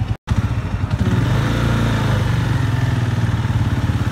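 A heavy sports motorcycle engine runs close by during a run test, a loud, rapidly pulsing throb that stays steady after a brief dropout at the start.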